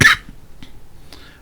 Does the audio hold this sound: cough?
yes